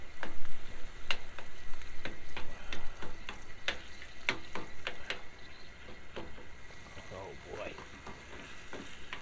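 Venison chili with onion and diced tomatoes is stirred in a pan over a camp fire, a close sizzle with a string of sharp utensil taps and scrapes; a voice speaks briefly.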